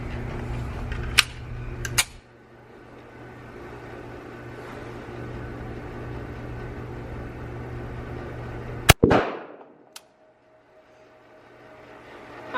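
A SIG P365 subcompact pistol fires a few sharp, loud shots at a range, spaced apart with long gaps, over a constant low hum.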